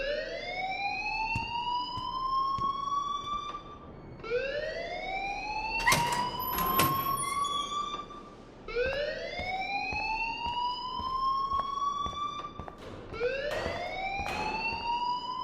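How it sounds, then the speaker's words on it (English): A school fire alarm in Life is Strange wails in repeated rising sweeps, four long cycles sounding steadily and fairly loud with faint background clatter. "please turn off that alarm since that's your job."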